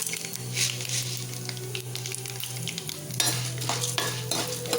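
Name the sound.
frying urad and chana dal until golden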